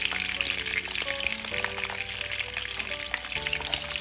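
Green capsicum sizzles loudly and steadily in a pan while being fried for a paneer gravy, a dense continuous crackle up close, with faint stirring.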